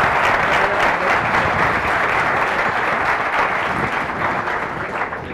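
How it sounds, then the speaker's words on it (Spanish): Audience applause at a talk on explaining quantum computing, a loud, dense and continuous clapping that holds steady and eases slightly toward the end. "Un aplauso, por favor."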